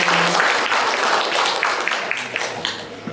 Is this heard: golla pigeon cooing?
no